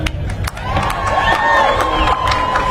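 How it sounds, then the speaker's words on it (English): A crowd at the National Memorial Day Parade in Washington cheers, whoops and claps for Colby Calais, with loud, sustained cheering, scattered claps and shouts, and a high whistle-like tone running through. "one more time, round of applause for Colby Calais"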